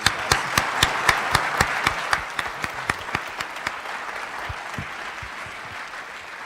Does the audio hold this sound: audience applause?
yes